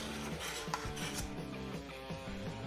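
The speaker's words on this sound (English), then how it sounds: "Mix it all together." Chocolate chips and cherries being folded into a keto ice cream base, a steady run of close scraping, clinking and knocking of a utensil against a bowl with no talk.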